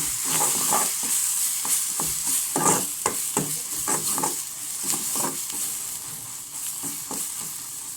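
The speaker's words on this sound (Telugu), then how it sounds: "చిటికెడు ధనియాల పొడి, చిటికెడు గరం మసాలా వేసుకొని మంచిగా కలుపుకోవాలి." Goat brain (bheja) fries in a pan with coriander powder and garam masala while a spoon stirs it steadily, a constant close sizzle broken by repeated scraping strokes, with no voices.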